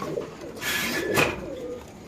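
Pigeons coo at a pigeon farm, a couple of close, hollow coos rising over a hissy background, with no talk.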